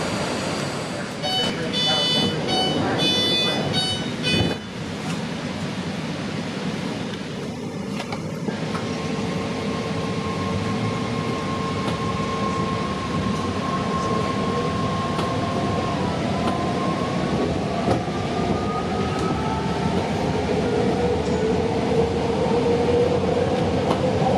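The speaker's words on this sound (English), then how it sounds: "This is the Orange Line train to Richmond." An Orange Line train bound for Richmond rolls along with a steady loud rumble and rising electric motor whine, under a short automated announcement tone and speech near the start.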